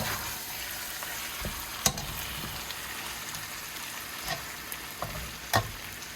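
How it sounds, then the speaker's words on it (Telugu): Spiced food frying in a pan on the stove, a steady close sizzle with occasional sharper pops and stirring clatters. "ఇలా బాగా వేగించాలి."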